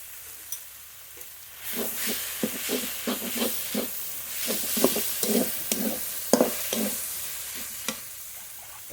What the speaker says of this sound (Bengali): এই মশলাটা খুব কড়া করে ভাজলে হবে না এরকম নরম নরম হবে সেরকম করে ভাজতে হবে